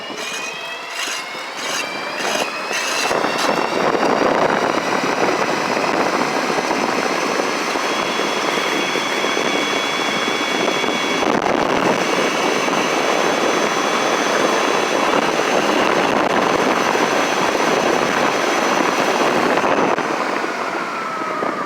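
A CYC X1 Pro e-bike motor runs at high speed, a steady loud whine with rushing wind noise sustained for about twenty seconds, close-up and unbroken.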